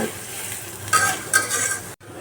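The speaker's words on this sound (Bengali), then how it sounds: "এখন বেরেস্তা ভাজা হচ্ছে" Oil sizzles steadily as sliced onions fry in a pan, with a couple of brief scraping stir sounds and a short cut-off near the end.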